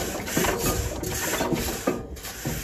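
A 1920 International Harvester Titan 10-20 tractor engine fires briefly after an impulse trip, giving a few loose mechanical knocks and thumps at a fairly steady pace before it fails to keep running, heard close with no talk.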